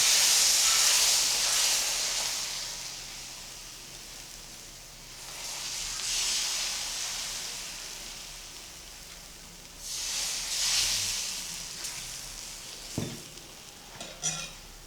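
Rava dosa batter is poured thin onto a hot tawa and hisses in loud steamy bursts that swell and fade, followed by a few light metallic clanks near the end.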